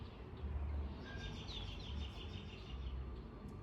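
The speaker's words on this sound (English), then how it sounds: "Listen to the birds." Birds chirp and sing faintly outdoors around a deck on a calm morning, thin high calls scattered over a steady low background hum, with no voices.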